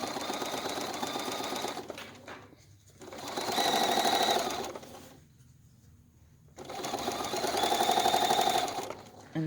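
A domestic sewing machine stitches quilt binding in two bursts of rapid, even mechanical whirring and clatter, separated by quiet pauses, close and loud with no talking.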